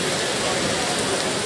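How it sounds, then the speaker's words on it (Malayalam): Heavy rain outside Chennai airport makes a steady, even hiss of downpour that does not let up, heard close and moderately loud. "നല്ല മഴയാണ് എയർപോർട്ടിൻ്റെ ഫ്രണ്ടിലായില്ലത്"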